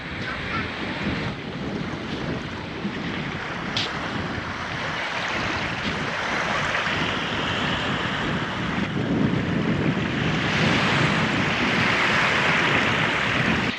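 Waves washing onto a beach on the Ring of Kerry coast, a continuous rushing surf with rising and falling swells, heavily buffeted by wind noise against the microphone.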